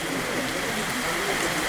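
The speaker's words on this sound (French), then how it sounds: "Voilà, on est parti sous la pluie en fait." Steady rain falls on the Machame route of Kilimanjaro, a dense even patter of drops on surfaces close around, continuous throughout with no voices.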